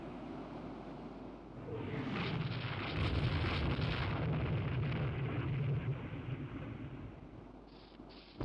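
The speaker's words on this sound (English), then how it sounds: "it's sunk because it got hit by a torpedo" A warship struck by a torpedo explodes in the naval strategy game Rule the Waves II, a loud sustained roaring blast with rumbling low end that swells for several seconds and then slowly subsides.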